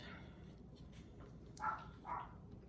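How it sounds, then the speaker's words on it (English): Two short, muffled dog barks from a distance, one after the other, over a quiet background hum. "Here's my dog barking"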